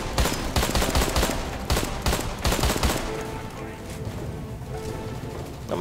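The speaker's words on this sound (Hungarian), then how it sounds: "ilyen egyes lövések leadásával lehet egy kicsit pontosabb lövéseket leadni" Single gunshots fired one after another in the video game Deadfall Adventures, a series of sharp separate cracks in the first three seconds, followed by a busier, rumbling game background.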